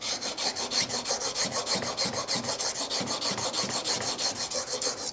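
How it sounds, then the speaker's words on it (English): A Blum plane blade is honed on a DMT extra fine diamond stone in steady rhythmic strokes, an even rasping scrape repeating about five times per second, close and with no talking. "I like to use a DMT extra fine diamond stone for this"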